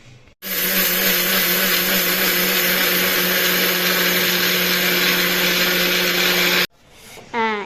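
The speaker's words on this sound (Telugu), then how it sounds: "పౌడర్లా ఇలా మిక్సీ జార్లోకి వేసి మిక్సీ చేసుకోవాలి" A mixer grinder grinds dried ragi into flour in its jar at home, a loud, steady, high whine running unbroken for about six seconds before cutting off abruptly, followed by a brief quieter rattle.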